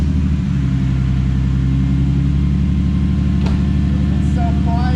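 A turbocharged BMW M52 in an E30 with a turbo-back exhaust runs at a loud, steady, rumbling idle close by, with a brief voice near the end.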